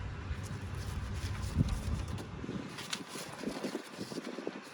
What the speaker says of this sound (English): as the wind's kind of blowing it everywhere